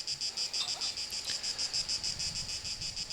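Outdoor cicadas fill the air with a continuous, pulsing high buzz, steady and moderately loud, with no voices.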